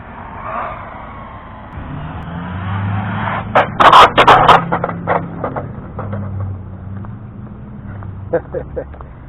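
A Redcat XERun 3660SD electric RC car runs nearby, its motor whine rising and falling with sharp bursts of scraping and clattering as it drives, while people talk over it.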